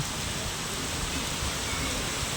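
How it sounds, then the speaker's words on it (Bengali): Heavy rain on a Dhaka street roars down in a dense, unbroken hiss that fills the space evenly from start to finish. "তুমুল আকারে বৃষ্টি হচ্ছে রাস্তাঘাটে"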